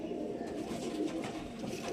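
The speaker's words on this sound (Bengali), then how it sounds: "ব্ল্যাক ব্ল্যাক ডায়মন্ড পায়রা এখানে তিনটে আছে" Black Diamond pigeons coo softly in a loft, a low murmuring burble that carries on steadily throughout, fairly close and unaccompanied by talk.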